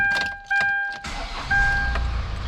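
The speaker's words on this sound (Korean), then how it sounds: "엔진 소음을 좀 들어보시면" The engine of a used Hyundai Grand Starex van hums steadily at idle, mixed with a tonal whine and a few clunks nearby.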